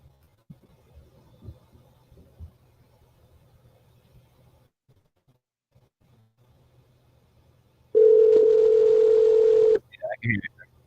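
A steady telephone tone rings out loud and alone for about two seconds during an outgoing call, following a stretch of faint room murmur, with a few short broken tones after it.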